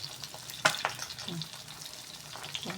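Catfish fries in a pan with only a little oil, giving a quiet sizzle with a few sharp pops and crackles, and a voice speaks softly over it.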